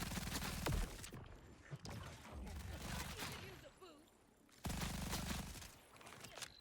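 Video game gun firing rapidly in bursts, Halo-style shooter combat with crackling volleys that cut in and out, moderately loud, over game effects and with short breaks between strings of fire.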